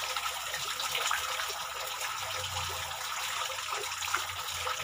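Water gushing steadily from a shower fitted with a homemade filter, a continuous broadband hiss with no pauses, fairly quiet and with no talking over it.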